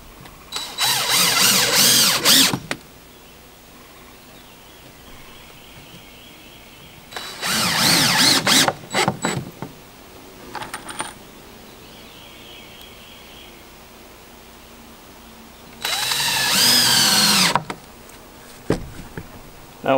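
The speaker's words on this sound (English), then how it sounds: "Finished screwing these couple boards in so they don't ship on me." A power drill driving screws into lumber boards on a treehouse build, three loud close bursts of whirring each lasting a couple of seconds, with quiet outdoor pauses and faint birds between them.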